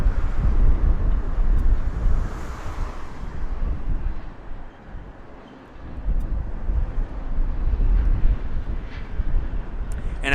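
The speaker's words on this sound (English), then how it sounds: "it's really windy out here right now." Strong gusting wind buffets the microphone outdoors at Harry Reid International Airport in Las Vegas, a loud, continuous low rumble that briefly eases midway before surging back, with no voices.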